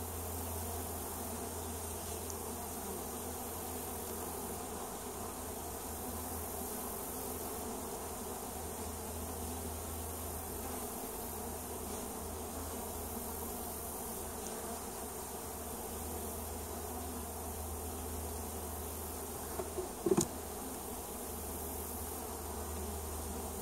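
Honey bees drone continuously around an opened swarm hive, a dense, steady close-up hum with a brief clunk near the end and no talking.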